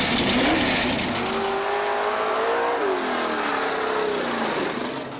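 1960s Hemi-powered drag race cars, including a Dodge Dart, race at a Maryland dragway, engines roaring loud and close and then rising in pitch as they accelerate away, the sound fading slightly at the end.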